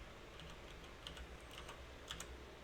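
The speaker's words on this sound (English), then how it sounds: "So I'm going to type in the word Python." Typing on a computer keyboard: a quick run of soft, close key clicks in an uneven rhythm over a low steady hum, faint overall and with no speech.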